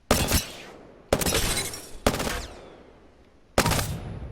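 In Apex Legends, a Prowler fires from the hip in four separate sharp, loud bursts of rapid gunfire, each burst followed by a short decaying echo.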